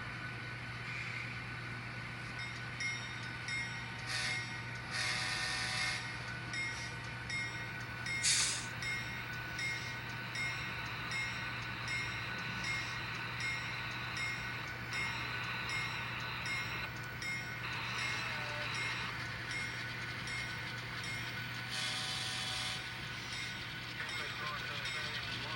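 A grain train runs continuously with a steady low hum, sustained mechanical drone and intermittent brighter hissing bursts, heard close and fairly loud throughout with no pauses.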